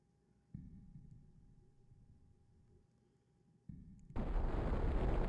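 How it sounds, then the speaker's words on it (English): Bomb in the Blood Omen 2 video game: faint mechanical hum and low rumbling, then a sudden loud explosion that bursts into sustained broad noise at the end, close and without talk. "Oh, is that a bomb?"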